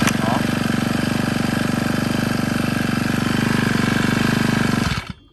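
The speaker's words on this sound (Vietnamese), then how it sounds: "Máy cực kỳ êm như động cơ của xe máy luôn" A Honda GX25 brush cutter engine runs at a steady, smooth idle with a fast even putter, close and loud, then cuts off abruptly near the end.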